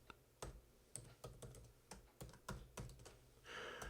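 Password keystrokes tapped on a computer keyboard, a dozen or so sharp, separate clicks in an irregular rhythm, fairly close and quiet, with a brief hiss-like swell near the end and no voices.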